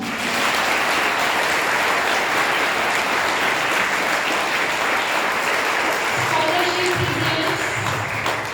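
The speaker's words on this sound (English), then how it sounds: "So I request you all to welcome all by clapping loudly." Sustained applause from a sizable crowd at a scholarship award ceremony, steady and dense throughout, with a few voices surfacing near the end.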